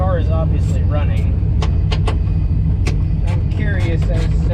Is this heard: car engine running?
yes